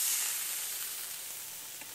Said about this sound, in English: listen for that nice sizzle in the pan